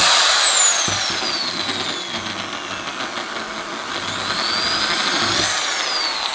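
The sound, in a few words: Bosch 500W 10RE electric drill drilling a pipe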